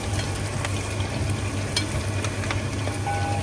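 Half a kilo of onions is stirred into frying pork for an Angamaly pork fry, with a steady hiss of sizzling oil close by and occasional faint clinks and scrapes.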